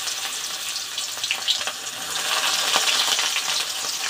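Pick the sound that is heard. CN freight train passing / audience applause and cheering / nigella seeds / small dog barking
nigella seeds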